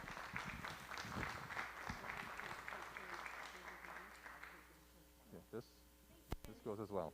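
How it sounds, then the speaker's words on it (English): A round of applause for the food service staff at a board of education meeting, steady crowd clapping for several seconds that thins out and stops, followed by faint talking and small noises in the room. "one more round of applause for our food service"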